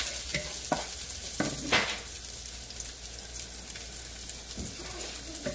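Chicken pieces fry in a pan while being stirred, a continuous close sizzle broken by a few sharp spoon scrapes against the pan, no voices.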